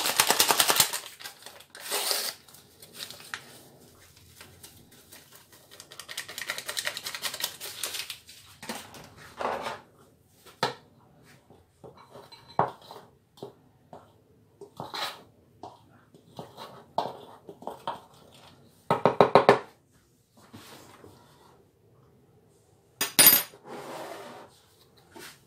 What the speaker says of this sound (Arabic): غادي نحاول انني نخلط